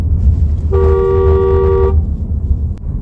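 A single steady car horn blast from a Mahindra BE6 lasting just over a second, loud and close, over a low rumbling traffic background.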